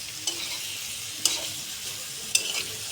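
Green chilies are added to ginger frying in a pan, giving a steady sizzle with a few brief stirring clinks spaced across the short stretch.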